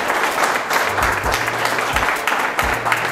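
An audience claps for a guest at a talk on building an online business, a loud, even wash of applause lasting throughout, with faint low voices underneath.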